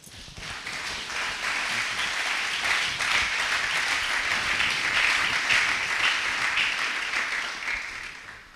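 A church congregation bursts into sustained applause acclaiming the Lord, a dense, steady wash of many hands clapping that holds evenly for several seconds and fades slightly at the end.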